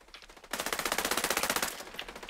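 Automatic rifle fire in the Ghost Recon Breakpoint video game: a rapid, steady burst of around twenty evenly spaced shots that starts abruptly, runs for over a second, then tapers into quieter reports at a moderate, fairly distant level.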